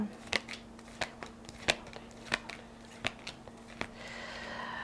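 Tarot cards are shuffled and snapped in a series of sharp, crisp flicks at an uneven rhythm, close by, over a faint steady hum.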